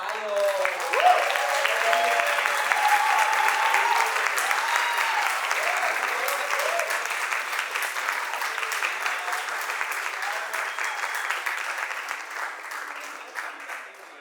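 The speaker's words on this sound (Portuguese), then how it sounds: "Vamos receber com uma salva de palmas Félix Zion." An audience claps and cheers at an evening ballroom culture talk event, a dense, sustained round of applause that stays strong and then gradually thins toward the end.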